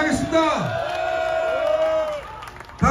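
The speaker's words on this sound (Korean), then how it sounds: "여러분 한번 박수와 환호로 한번 저를 맞이해주시면 감사하겠습니다." A crowd at an outdoor protest rally cheers and applauds, with whoops and raised voices rising over a steady roar of claps, loud and close, before briefly dropping and swelling again.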